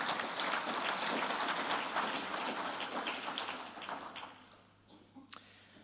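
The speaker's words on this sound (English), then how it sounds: "A round of applause for all of them." Audience at an agricultural innovation awards evening applauding the finalists, with dense clapping that slowly fades to a few scattered claps by the end.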